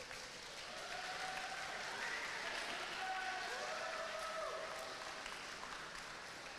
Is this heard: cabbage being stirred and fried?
no